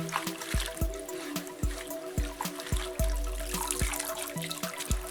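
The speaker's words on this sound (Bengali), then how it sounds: "গাঁদাল পাতাটা গাছ থেকে তুলে এনেছি, এখন পরিষ্কার করে ধুয়ে নিচ্ছি" Gandal leaves are washed in water, with repeated rhythmic splashes and drips about twice a second over a steady trickle, close and fairly quiet.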